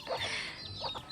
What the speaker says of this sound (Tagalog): Ayan pa yung mga manok niya.